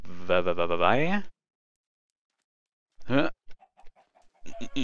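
A Minecraft chicken gives a short burst of clucking, then silence, then another cluck followed by scattered small game sounds, all close and clear with no talk over them.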